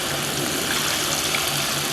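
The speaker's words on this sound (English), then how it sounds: "The water comes in this showery spray." A quiet GE washing machine fills with water through a showery spray, a steady hissing wash of falling water that stays even and close from start to finish, with no voices.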